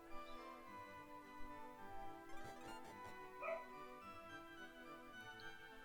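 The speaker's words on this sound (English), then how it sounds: "You guys can probably hear my dog right now." A dog in another room barks and whimpers at low level, a few yips under a steady layer of game music playing throughout.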